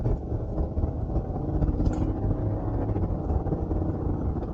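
The V8 engine of a 2023 GMC Yukon Denali Ultimate rumbles steadily with a deep, throaty grunt, continuous and close throughout.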